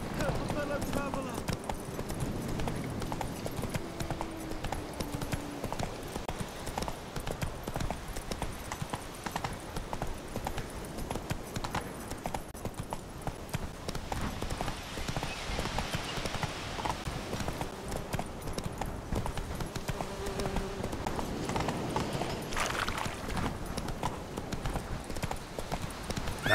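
Hooves of the horse in The Witcher 3 clip-clop steadily through the scene, a continuous rhythmic trot mixed with game ambience, while characters talk over it.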